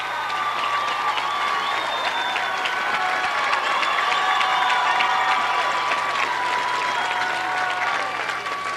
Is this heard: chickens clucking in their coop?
no